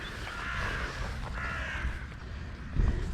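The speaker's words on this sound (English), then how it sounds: "there go our crows" Crows caw out in the open near a grassy field, a few harsh calls repeating at moderate distance over a steady outdoor background.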